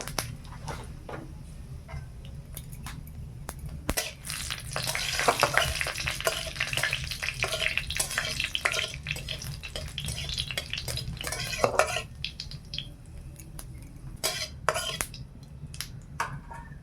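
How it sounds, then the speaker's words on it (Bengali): Green chillies and panch phoron spices fry in hot oil in a village kitchen, with crackling sizzle, spatters and repeated scraping stirs of a utensil against the pan, busiest in the middle stretch. "ভালোভাবে ভাজা হয়ে গেছে ফোড়ন আর লঙ্কাটা"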